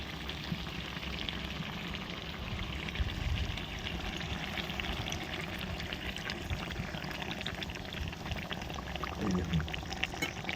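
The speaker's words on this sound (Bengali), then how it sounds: "জলটা এবার শিল ধোয়া যে জলটা ছিল, সেই জলটা দেবো।" Rinse water from a grinding stone is poured into a simmering village-style duck curry, giving a steady watery gush and bubbling over a low background hum, fairly quiet, with no speech.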